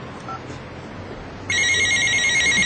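A telephone starts ringing partway through, a loud, steady electronic ring that continues to the end over faint room noise.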